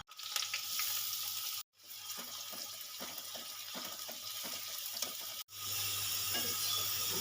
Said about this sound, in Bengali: পেঁয়াজটা ভেজে তুলে নেব